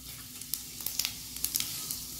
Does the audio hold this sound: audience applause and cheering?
no